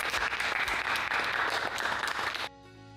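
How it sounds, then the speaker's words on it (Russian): Audience applause for a police lieutenant colonel being introduced on a talk show: dense, sustained clapping from a full crowd that stops abruptly, leaving a faint musical tone. "Ваши аплодисменты."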